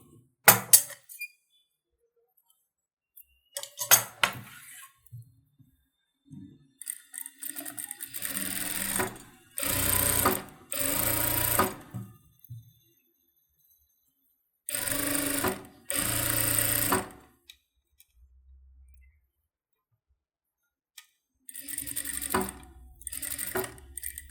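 Sewing machine stitching the neck of a saree blouse in short bursts of rapid whirring, separated by silent pauses and light handling clicks, close and loud, with no talk.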